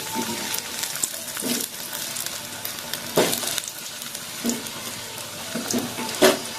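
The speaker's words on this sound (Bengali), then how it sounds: "তেল গরম হয়ে গেছে এবার আলুটা ভেজে নেব দিয়ে দিলাম আলু" Diced potato cubes frying in hot oil in a pan, a steady sizzle with several louder bursts and clatters as pieces are stirred or dropped in, close and fairly loud with no talking.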